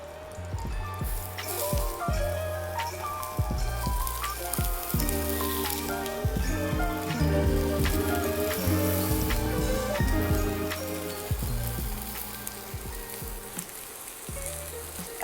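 Food pan-frying in a little oil over medium heat in a hot pan makes a dense, continuous crackling sizzle. It sounds close and fairly loud, stays steady throughout and has no voices over it.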